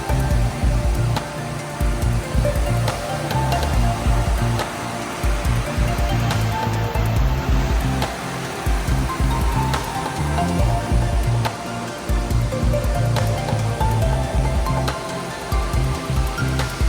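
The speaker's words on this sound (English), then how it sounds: "The sight of the white spray of water hitting the rocks and spreading out looks as if white wisteria flowers are in full bloom" Waterfall spray crashing onto rocks, a loud, steady broadband roar of falling water that continues without a break.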